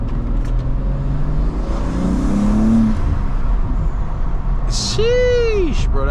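A BMW M2 fitted with new air intakes runs loud and close, a steady engine drone with a brief rising rev near the end, while voices talk over it.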